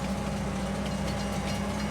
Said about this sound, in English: So if you slowly take this train back,